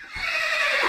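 A horse in Minecraft's Hexxit modpack, from the Project Zulu mod, gives a loud, close whinny lasting under a second, bright and shrill with a wavering pitch and no speech over it.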